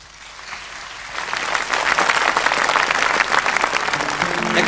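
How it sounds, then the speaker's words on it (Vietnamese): Audience applause in a Vietnamese stage comedy show, building quickly from a quiet start into loud, dense clapping that holds strong to the end. "tròn tràng pháo tay"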